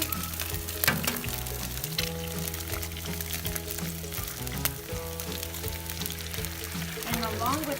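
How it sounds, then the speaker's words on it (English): Two eggs cracked onto an outdoor griddle in vegetable olive oil, sizzling steadily and loudly with occasional spatula scrapes, a voice talking over the frying. "Throw in our eggs. 2 eggs, okay? Let me throw that over here."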